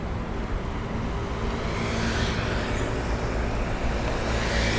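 City street traffic in Manhattan and Brooklyn on a Sunday evening, a steady wash of engines and tire noise with a vehicle swelling past midway, moderately loud with no talk.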